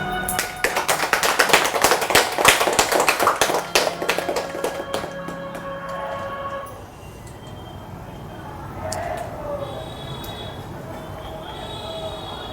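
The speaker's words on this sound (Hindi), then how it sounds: "सभी अपने लिए जोरदार तालियां बजाएंगे।" Clapping in a garbh sanskar class at a women's hospital in Airoli, Navi Mumbai, a loud burst of many hands for the first few seconds that thins and stops, followed by a quieter room.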